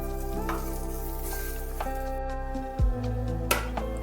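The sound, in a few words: eggplant frying in a little oil in a wok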